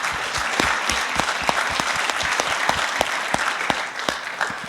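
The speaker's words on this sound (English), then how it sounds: "Can we get a round of applause for that?" An audience at a car dealership internet sales conference breaks into a full round of applause, dense steady clapping with sharp individual claps standing out, loud and sustained throughout.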